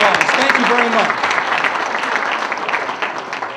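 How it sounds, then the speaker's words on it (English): Crowd applause at a 2019 Dr. Martin Luther King Jr. celebration, a dense continuous clapping that fills the space while a voice speaks over its opening moments. "Now a big round of applause."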